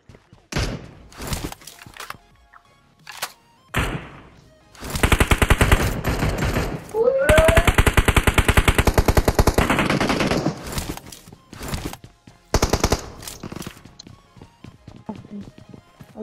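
Rapid automatic gunfire from a mobile battle royale shooter in a firefight with an enemy squad, loud bursts with a sustained volley in the middle and scattered single shots before and after.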